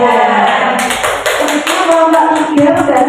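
A primary school class claps for a group of pupils, a short burst of close hand claps and taps with classroom murmur around it.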